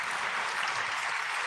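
Audience clapping at a religious gathering, a dense, even wash of many hands, steady and moderately loud throughout, with no voices on top.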